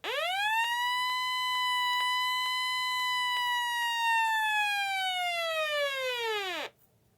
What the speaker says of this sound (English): Alright, now this radio does have a siren.